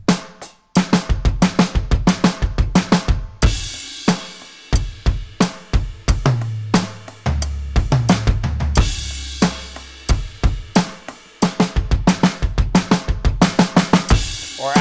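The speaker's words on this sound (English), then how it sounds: "So dropping that last kick will sound like this." A close, loud drum kit runs through a groove and fill with the final kick left out, crisp snare and kick strokes, a sustained cymbal wash and low tones in the middle, then the steady beat returns with no speech.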